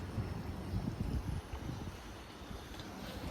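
Wind rushes and buffets steadily against the microphone outdoors in Ayvalık, Turkey, a low rough roar with no voices.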